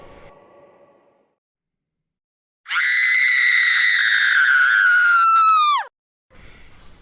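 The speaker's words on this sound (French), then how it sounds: "Elle va se mettre à hurler." A horror-style ghost girl's scream, a single loud, piercing, sustained shriek lasting about three seconds that bends downward at the end, set between quiet pauses.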